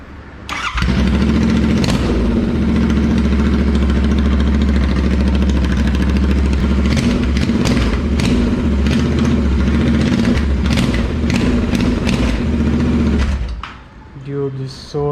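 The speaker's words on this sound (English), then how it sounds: "Let's check the exhaust note without any silencer." Motorcycle fitted with a Red Rooster performance exhaust and no silencer cranks to life and settles into a loud, throaty idle with a few blips, close and booming, cutting off near the end.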